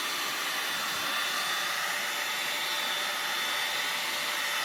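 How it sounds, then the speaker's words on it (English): A heat gun blows steadily to dry decoupage coats on a plate, giving a continuous broadband airy roar that stays loud and unchanging throughout with no talking. "This is my gun in action to dry it quick."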